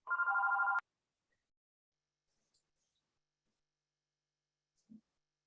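A telephone rings once in a quiet committee meeting room, a short, loud electronic trill that then stops, followed by near silence with a faint soft bump.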